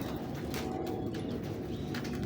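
Sialkoti pigeons coo close by in a low, continuous murmur, with faint chirps and a hum of background noise around them.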